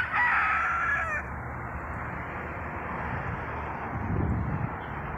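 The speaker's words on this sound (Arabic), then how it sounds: "وهذه الطيور الداجنة" A rooster crows once loudly at the start on a farm with domestic poultry and ducks, then steady outdoor noise with faint low rustling follows.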